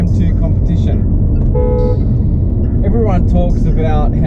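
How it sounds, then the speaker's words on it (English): A 2019 BMW M2 Competition sounds its horn in two short honking blasts, the first around mid-clip and the second near the end, over a loud, constant low rumble, with a voice heard briefly. "what does the horn sound like of a BMW M2 Competition?"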